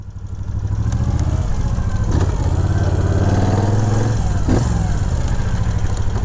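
A 2000 Moto Guzzi Jackal motorcycle rides along, its engine a loud, steady, throbbing drone that holds close throughout with a faint change in pitch midway.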